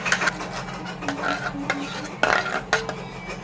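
A spoon stirs a thick jackfruit mixture for chakka prathaman with a little added water, breaking up lumps over a low flame, giving close scraping and knocking strokes in irregular bursts against a steady low background hum.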